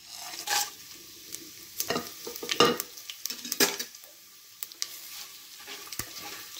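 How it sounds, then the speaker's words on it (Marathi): Whole spices with a pinch of asafoetida fry in hot oil, giving a soft sizzle under close scraping stirs of a spoon across the pan, in sporadic strokes and without speech. "छान परतून घ्यायचं खडा मसाला।"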